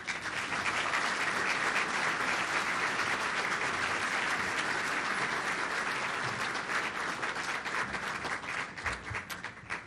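A large awards-ceremony audience applauds the winners with loud, dense, sustained clapping that stays full throughout and thins only slightly near the end.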